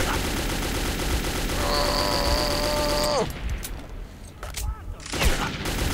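Gunfire in the shooter video game Metro 2033, a loud sustained burst of rapid shots that ends abruptly, followed by quieter scattered clatter and game sounds.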